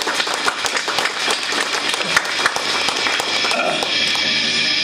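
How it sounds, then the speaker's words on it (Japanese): Audience applause at a live music show, a steady dense clapping crowd that swells and holds loud and close, with a sustained wash filling the later seconds. "皆さん拍手お願いします"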